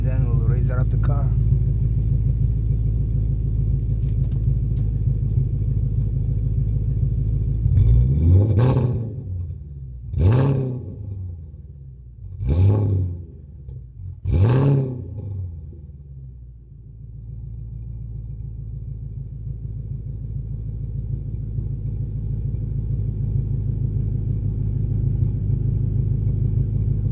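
Straight-pipe exhaust car on a cold start: a deep idle rumble broken by four sharp, loud revs spaced a couple of seconds apart, each rising and falling back to the steady idle.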